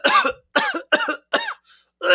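A narrator's voice imitates a dry, hacking cough in five sharp bursts spaced close together, loud and near.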